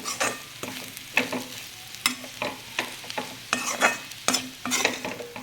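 Bitter gourd frying in a pan on a low gas flame, stirred in quick repeated scraping strokes over a soft, continuous sizzle, heard up close.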